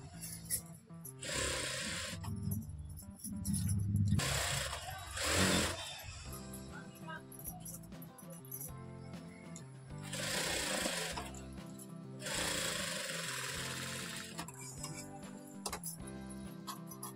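A sewing machine stitches a simple blouse, running in several loud rattling bursts with short pauses between, its rapid needle clatter close and steady.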